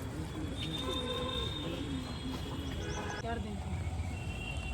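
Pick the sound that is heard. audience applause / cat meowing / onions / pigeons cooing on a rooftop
pigeons cooing on a rooftop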